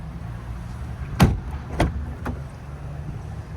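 A 2011 Ford Escape Limited's rear car door clunks open with a few short mechanical knocks and clicks, close by, over a low steady hum.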